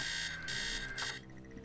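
An alarm clock in the game Stories Untold rings in a few short bright bursts before cutting off abruptly, leaving a low steady hum.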